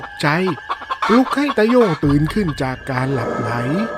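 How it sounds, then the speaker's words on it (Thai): Chickens in a coop squawk and cluck in alarm at night, a spooky story sound effect with rising, agitated calls repeating over a narrator's voice throughout. "มีเสียงไก่ร้องออกมา"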